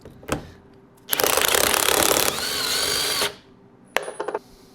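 A power drill drives a drywall screw into a seal on a 1976 Triumph TR6 engine, a loud whirring burst of about two seconds with a pitch change, framed by clicks and clunks of handling.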